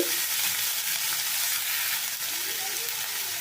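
Amaranth greens with shrimp, potato and eggplant fry in a pan, giving a steady, close, hissing sizzle that runs unbroken from start to finish, with only faint stirring movement and no talking.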